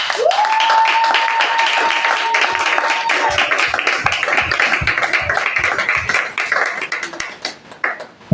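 A church congregation breaks into sustained applause during a sermon on faith, dense clapping filling the space near and loud, with a held sung or spoken tone at the start and the clapping thinning into scattered beats by the end.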